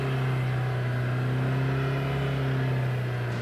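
Jeep engine held in a low gear and revving hard while climbing loose sand dunes, a steady, loud droning hum with a strong low tone that stays constant throughout.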